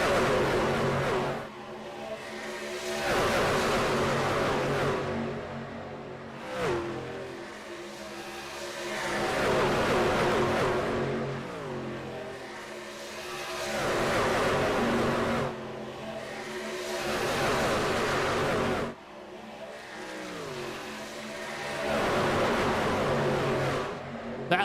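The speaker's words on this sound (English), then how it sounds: "Listen to these trucks make a lap." Racing truck engines roar past in repeated waves on a lap at Atlanta, each rising and fading as the trucks sweep by, with brief lulls between passes.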